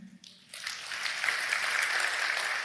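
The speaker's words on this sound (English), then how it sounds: "Can you clap for men?" A church congregation breaks into applause for the men of the church, a steady, fairly loud wash of clapping that swells in after a brief quiet start and holds to the end.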